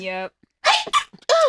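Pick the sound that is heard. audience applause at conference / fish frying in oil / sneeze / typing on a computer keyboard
sneeze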